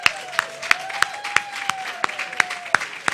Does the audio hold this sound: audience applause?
yes